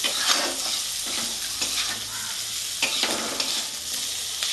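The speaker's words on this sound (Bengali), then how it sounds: "মুগের ডাল বেশি ভাজবো না জাস্ট নাড়াচাড়া করে আমি এবার লাউগুলো দিয়ে দেবো" Moong dal being stirred as it fries, then chopped bottle gourd tipped into the pan, giving a loud, close sizzle broken by scraping spoon strokes and bursts of hiss.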